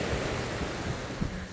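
Surf washing onto a South China Sea beach at San Juan, La Union, Philippines, a steady broad wash of breaking waves with light wind noise and no talking.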